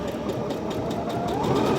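A sewing machine stitches a circle appliqué, running with a close, steady mechanical whir and a fast rhythmic needle chatter for a couple of seconds, with no talking over it.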